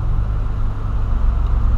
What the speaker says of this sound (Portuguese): Aqui em Bauru é uma avenida movimentada pra caramba.